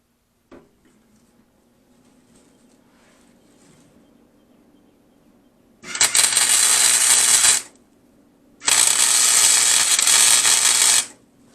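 Tack welding on a scrap metal rooster sculpture: two loud, close bursts of harsh crackling buzz, each lasting about two seconds with a short pause between, preceded by a sharp click and faint handling noise.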